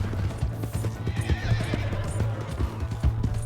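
A horse in Red Dead Redemption 2 neighs in a long whinny over rhythmic hoof clip-clops, with a low engine-like rumble beneath.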